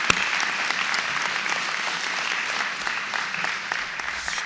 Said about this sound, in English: so give them a round of applause for me.